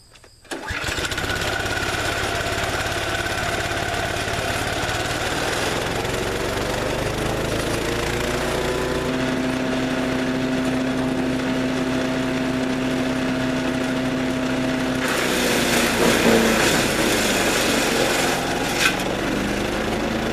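A Nova-Tractor BX2000E chipper shredder runs loud and steady as wood branches are fed through, its engine drone rising in pitch with rubbing, grinding crunches, and a harsher burst of shredding near the end.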